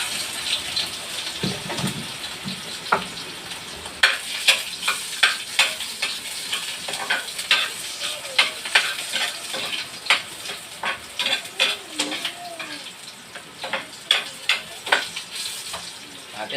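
Garlic and onion hit hot cooking oil and crackle steadily, with a busy stream of close popping and spattering bursts that grows livelier over the stretch.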